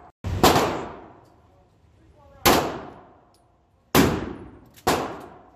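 Four loud 9mm pistol shots crack out at a shooting range, spaced unevenly over a few seconds, each a sharp bang with a ringing, echoing tail.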